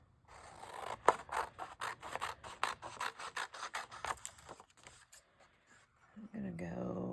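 Scissors snip rapidly through the pages of a book, a quick run of close, crisp cuts that thin out toward the end as a voice starts up.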